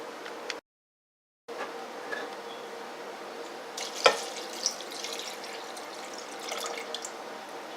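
Tap water runs steadily into a bowl to wash homemade butter, a constant close trickle with a brief break and a few drips and clinks, without talk.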